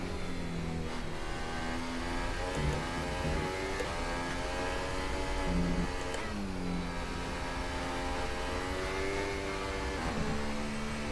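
An F1 car engine in the F1 2018 racing game revs loud and steady throughout, its pitch climbing and dropping sharply at gear changes, including a quick double upshift.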